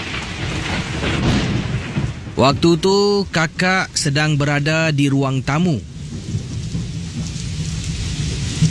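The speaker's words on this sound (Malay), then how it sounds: "datang lagi hujan selebat-lebatnya" Heavy downpour with thunder rolling behind it, a steady wash of rain running under and around a voice narrating a Malay-language horror story.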